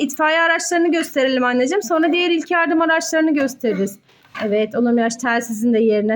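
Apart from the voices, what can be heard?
No distinct noise like a dog, phone or traffic.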